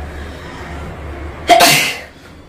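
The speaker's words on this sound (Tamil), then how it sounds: "சாரி, தும்மல் வருது." A single sharp sneeze close to the microphone, a sudden loud burst trailing off over about half a second against a quiet, low background hum.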